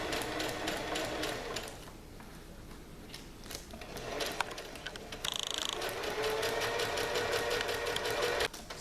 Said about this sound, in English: You use the zigzag on your sewing machine, and you go backwards and forwards over the lines of the design.